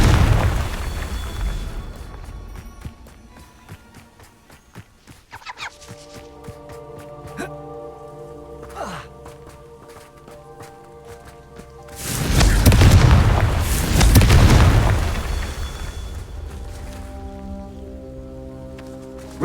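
Confringo fire spells explode in the Hogwarts Legacy video game, with scattered crackling hits and two heavy booming blasts rolling out near the end over a continuous game soundscape.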